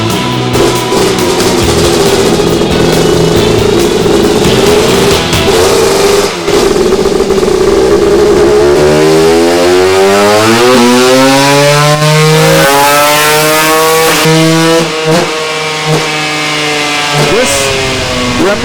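A two-stroke motorcycle engine revs on a dyno, loud and continuous, its pitch climbing steadily through the rev range in a long sweeping pull near the microphone.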